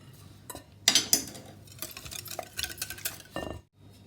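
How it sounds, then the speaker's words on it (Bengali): Egg mixture with oil, ground black pepper and salt for a breadless sandwich being beaten well in a bowl, with a close, busy run of clinking, scraping whisks and stirs, loudest near the start, then a short pause near the end. "ভালো করে ফেটে নিতে হবে"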